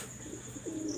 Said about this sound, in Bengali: সেই নর কবুতরটা এই দেখেন